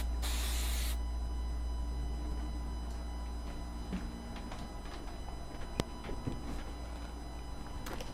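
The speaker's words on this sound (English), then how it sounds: "Let me finish gluing this." A can of spray glue hisses in a single loud burst of about a second at the start, in a sewing studio, followed by a steady hum and small handling clicks.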